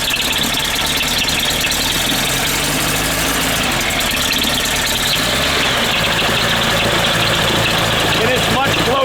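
A small aircraft engine, propeller turning, idles steadily up close while its carburetors are being synchronized, a continuous loud rumble with a high squeal riding over it throughout.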